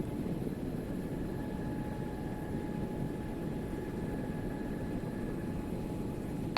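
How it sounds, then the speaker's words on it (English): A Dolphin-style helicopter setting down on a landing pad in a video game gives a steady, dense broadband rotor and engine roar that holds even and loud, with no voices. "Just had another helicopter land on site"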